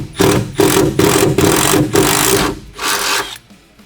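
A power drill bores a pilot hole in the bed of a 4th-gen RAM truck, its motor whirring loudly in several separate bursts with short pauses between them, close up.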